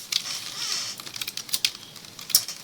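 Quick clicky keystrokes on a computer keyboard as a short cd command is typed, a steady rapid patter of light taps heard close and alone.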